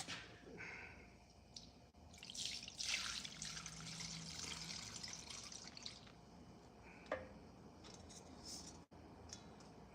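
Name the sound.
pouring melted candle wax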